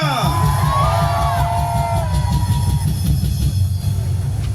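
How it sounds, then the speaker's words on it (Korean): A large crowd at a political rally in Gwanghwamun, Seoul, roars and cheers continuously, with whoops and shouting voices blending into a loud, sustained wall of noise. "오늘까지 이어지는 이 애국의 함성이"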